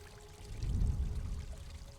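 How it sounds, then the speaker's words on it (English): Water is released in the game GRIS and flows with a soft, low pouring rush. It swells in the middle and then settles into a steady gentle stream, fairly quiet and heard alone. "So that opens up the water."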